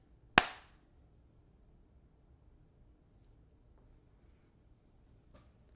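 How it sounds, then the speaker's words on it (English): One sharp hand clap during an indoor livestream, loud and close, followed by near-silence with only faint room noise. "Clap again."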